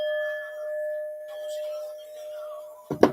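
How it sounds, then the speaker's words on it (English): Gong struck once during a live spiritual tarot reading, a sustained bright metallic ring that slowly decays over a few seconds before a clatter at the end. "let's just ring the gong while I'm"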